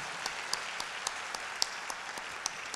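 Applause for Dom Marconi at a church catechesis gathering, a steady crowd clapping that fills the room with dense, even patter and a few sharper claps standing out.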